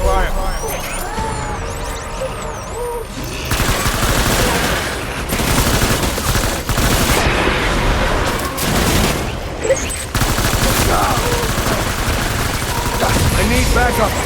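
Heavy gunfire in a Death Stranding battle: loud, continuous bursts and rapid automatic fire mixed with booming impacts, close and dense throughout, with voices underneath.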